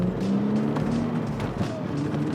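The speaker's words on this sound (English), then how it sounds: "You can still hear the exhaust note, but it's just right." Nissan 300ZX Z32 with a turbos-back exhaust, 2.5-inch catback and open X-pipe, droning low and steady from inside the cabin at cruise, subdued under occasional faint voices.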